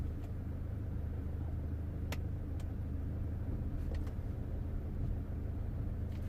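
A BMW F11 estate car with an ABS wheel sensor fault rolls forward, giving a low, steady road and engine rumble with a few faint clicks. The sound stays quiet and even throughout, with no talk.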